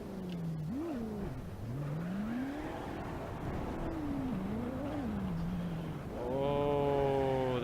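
A 3.6 liter V6 car with a diesel truck turbo accelerates in the BeamNG.drive driving game. The engine drones and wavers up and down in pitch, then climbs to a louder, rising rev near the end.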